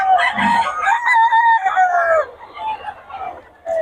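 A rooster crows loudly nearby in a long drawn-out call, with clucking chickens around it, among chickens for sale in Bocaue.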